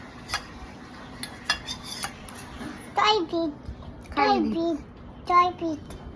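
A spoon clinks against a dish in sharp, scattered taps while a child eats, quiet and close, with a voice speaking between the clinks.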